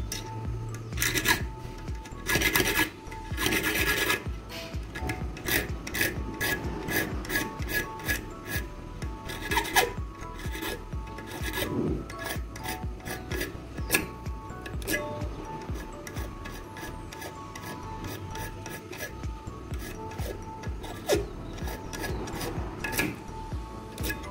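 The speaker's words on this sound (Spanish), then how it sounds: "vamos a cortar sexta lámina por el otro extremo." Key cutting machine cutting the blade of a key for a 2004 Hyundai Tucson, a continuous harsh grinding rasp up close with rapid repeated bursts as the cutter works along the metal, and no voices.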